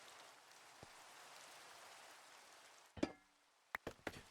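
Rain from the Cool Rain mod for a PC video game gives a steady, soft hiss, followed near the end by a few sharp clicks.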